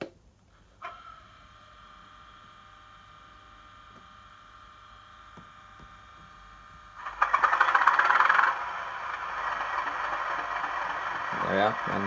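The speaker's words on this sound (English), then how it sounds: "let's fire up the engine" A Bachmann Class 37 model diesel locomotive in Rail Freight General sector livery, fitted with DCC sound, starts up from quiet: faint clicks, then a loud cranking burst that settles into a steady idling rumble with a slight rattle.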